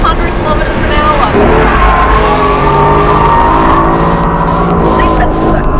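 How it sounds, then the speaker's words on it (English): A Lamborghini circles a race track at close to 200 km/h, its tires squealing loudly as it slides, a continuous high shriek over steady engine roar, with voices talking throughout. "Listen to that scream of the tires."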